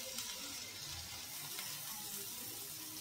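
Kebabs sizzle in hot ghee in a pan, a steady broadband frying hiss that holds close and even throughout with no voices.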